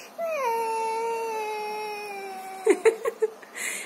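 A voice imitates a baby crying: a long wavering wail that trails off, followed by a few short sobbing gasps.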